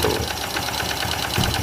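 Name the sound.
bored-up Honda Blade 130cc motorcycle engine running, sewing-machine-like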